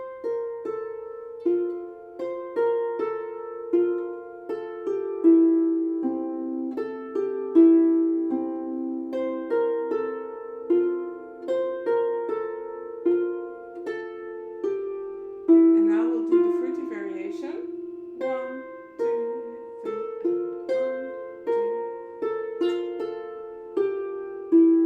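Beginner harp piece played solo, clear plucked notes in a steady, simple rhythm, with a repeated section in a livelier varied rhythm, each note ringing and decaying.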